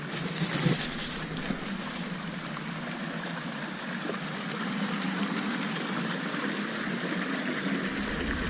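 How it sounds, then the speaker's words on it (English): A year-round creek flowing down the middle of a road at The Maples, a steady soft rush and trickle of water with some wind, fairly faint and continuous. "This creek that runs down the middle of the road, it's here year-round."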